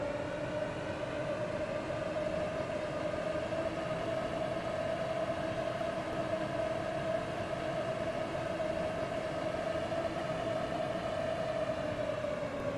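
Class 377 train running in a Roblox railway game, a steady, even cabin drone with a sustained tonal motor whine held for the whole stretch, moderately loud and without talk.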